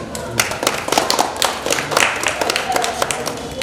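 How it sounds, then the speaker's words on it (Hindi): A crowd claps at an award ceremony in Anand, Gujarat, where mementos are handed to guests. The applause is steady and moderately loud, with scattered overlapping claps throughout and a few voices mixed in. "तालियां गूंजनी चाहिए"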